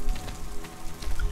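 Night-time rain in the video game Starforge patters steadily and densely on surfaces, a close, fairly loud, even hiss of drops with no speech over it.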